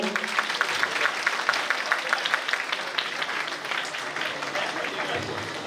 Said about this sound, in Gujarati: બધા તાળીઓ પાડો મિત્રો.